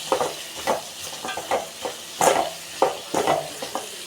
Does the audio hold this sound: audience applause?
no